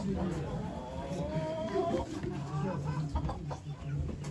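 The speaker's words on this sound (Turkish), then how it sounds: "Tavuk da yumurtluyor." Chickens cluck repeatedly at a livestock auction, a close, busy mix of clucking heard under the murmur of people talking.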